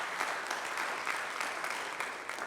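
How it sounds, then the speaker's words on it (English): Audience applause fills a building after a rabbi's thank-you speech, steady dense clapping throughout with no voices on top. "You should give yourself a big round of applause for that."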